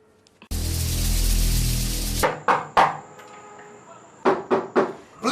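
Several forceful bangs on a door come in irregular bursts after a loud sustained noise, each knock sharp, close and alone.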